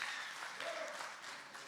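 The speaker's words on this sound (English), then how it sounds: "let's give yourselves, the audience, a round of applause" Steady audience applause at an adult community talent show, a dense wash of many hands clapping continuously, somewhat distant and fairly soft, with no voices on top.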